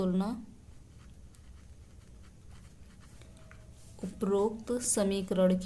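Pen or chalk scratches out a linear equation solution in a few faint strokes between spoken explanation, with a person talking at the start and end.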